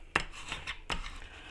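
A bone folder or tool burnishes the crease of a folded paper card with two quick, quiet rubbing strokes, close up and without talk.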